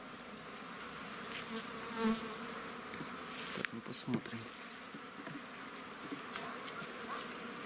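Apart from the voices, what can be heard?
honey bees buzzing at hive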